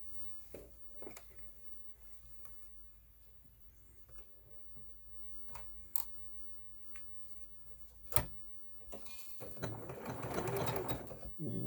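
A sewing machine runs a straight stitch on elastic for a face mask, starting with faint taps and scattered clicks before a louder burst of stitching near the end, close but quiet.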